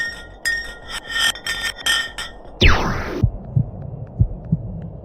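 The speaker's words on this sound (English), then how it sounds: "The pitches changed over the quick descent of the block of ice, ranging from high pitch and ending with a low heartbeat-like sound." Block of ice dropped down an Antarctic borehole, giving a run of bright ringing pings that sweep abruptly down in pitch, then several low, dull heartbeat-like thumps spaced out at the end, with no one talking.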